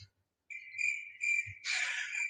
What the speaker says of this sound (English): Thanks for the crickets there, Andrew.